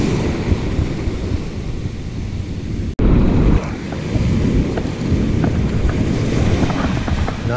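Ocean waves wash at a shore fishing spot with a loud continuous roar mixed with strong wind buffeting the microphone, briefly dropping out once before resuming.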